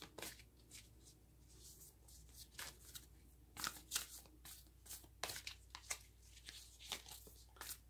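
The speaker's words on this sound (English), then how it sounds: "These cards, for some reason, are not happily shuffling." Oracle cards are shuffled by hand, giving repeated crisp riffling bursts in an irregular rhythm, close and fairly quiet, with no talk over them.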